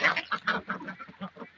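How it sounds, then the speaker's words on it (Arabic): Domestic ducks kept at home quack loudly and rapidly as feed is thrown to them, a close burst of overlapping calls in an uneven, excited rhythm. "تربية البط في البيت تربيته جميلة جدا جدا جدا"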